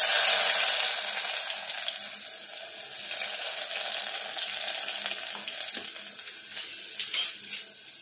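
Onion and tomato fry in hot oil in a pan, a close, steady hiss with faint scattered clinks, loudest at the start and easing slightly as it goes on.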